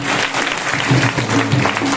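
A church congregation claps loudly at a Hindi-language Christian sermon, a dense, steady burst of applause lasting a couple of seconds with a faint voice or music tone running underneath.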